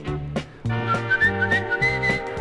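Whistling tune imitating birdsong, a melodic line of bright rising and falling notes played along with a song, close and clear.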